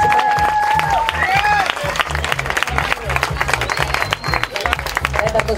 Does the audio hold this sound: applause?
yes